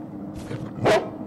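A dog in a video game gives a soft whimper, then a single loud bark, close and clear over light background noise, with no voices.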